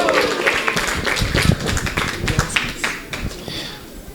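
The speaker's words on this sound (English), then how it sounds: "let's give a big round of applause and a big Hari Bol to Maharaja" An audience at a Bhagavad Gita class claps for a visiting speaker, a scattered burst of hand claps and taps that thins out toward the end, with a voice faintly mixed in.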